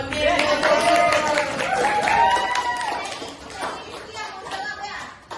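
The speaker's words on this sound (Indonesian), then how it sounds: "Oke, tepuk tangan untuk Andi" Children's voices and a brief burst of clapping fill a lively classroom, with chatter continuing as the applause fades.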